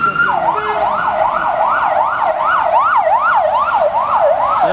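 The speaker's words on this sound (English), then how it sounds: "Ambulance." An ambulance siren wails on a city street in Baku. It is loud and close, repeating its rising-and-falling cycles steadily for the whole stretch.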